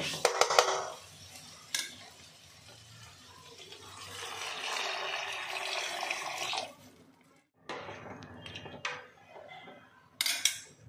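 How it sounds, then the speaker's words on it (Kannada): Water being poured into a pan of cooked vegetables, with a steady splashing pour for several seconds, then brief clinks of pots and utensils near the end. "ಈಗ ನಾನು ಇದಕ್ಕೆ ನೀರು ಹಾಕ್ಕೊತಾ ಇದ್ದೀನಿ."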